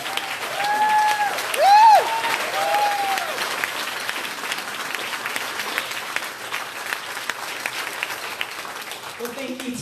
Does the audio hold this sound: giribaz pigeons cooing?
no